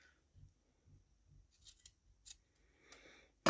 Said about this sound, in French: Je vais bien couper les bords là. Si mon ciseau, si mes ciseaux veulent bien couper.